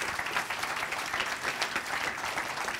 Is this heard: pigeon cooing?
no